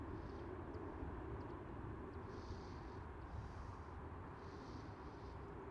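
A Fly-A-Deal airliner slowing down on the runway at Schiphol, heard as a steady, distant roar of engines and wind rumble with no talking.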